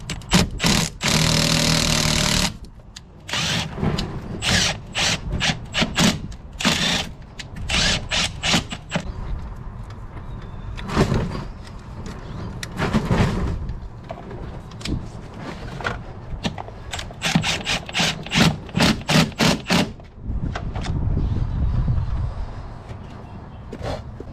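Hardware bolts run repeatedly in and out of painted threaded holes on a car being wired up for a K24 swap, giving bursts of buzzy power-tool whirring with short pauses between them, loud and close.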